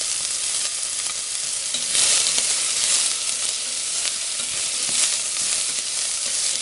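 Onion and carrot sticks fry in very hot oil, giving a loud, continuous sizzle and crackle with slight swells as the food is stirred, and no voices.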